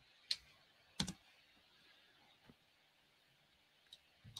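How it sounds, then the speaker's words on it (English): A few sparse, quiet clicks of typing on a computer keyboard, isolated taps spread irregularly over a hushed background rather than a steady run of keystrokes. "this is coming straight off now while I'm typing."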